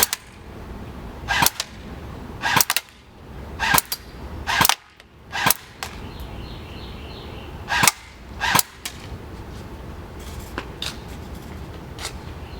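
Shots from a 350 FPS airsoft gun hit mesh goggles in a row of sharp, snappy cracks, about eight of them spaced irregularly, close and loud against a quiet background.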